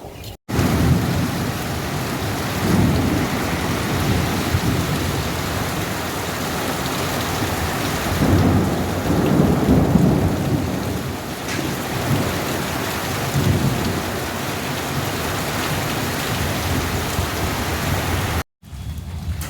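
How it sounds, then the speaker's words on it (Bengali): Heavy rain pours down steadily, a dense rushing roar with deep rolls of thunder swelling in the middle, continuous and close with no voices. "আবার বৃষ্টিও শুরু হয়ে গেছে"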